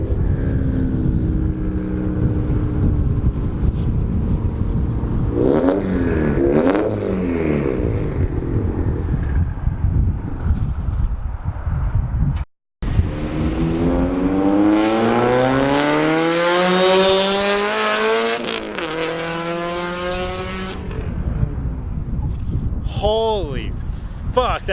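A Subaru-era FRS sports car, tuned past 300 horsepower, roars on a dyno through repeated loud rising revs with a brief cut near the middle, its exhaust blaring close by under a raised voice.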